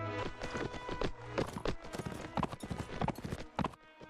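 Horse hooves clip-clopping in the Mount & Blade Warband game, a busy run of overlapping hoofbeats at close range with no talk.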